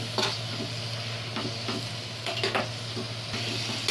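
Chicken meat frying in a pan for ghugni, a steady sizzle overlaid with a series of scraping stirs from a spatula, close and unaccompanied by speech, with a low hum running underneath.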